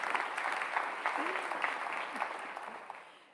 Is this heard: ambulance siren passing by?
no